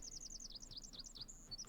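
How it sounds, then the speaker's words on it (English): Small birds in the video game The Forest chirp in quick, repeated high-pitched tweets, a steady run of short calls over a faint outdoor background, soft and somewhat distant. "All these birds."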